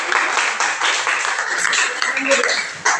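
A classroom of students clapping their hands together, a busy spread of many claps forming steady applause for a few seconds, close and fairly loud, with voices underneath.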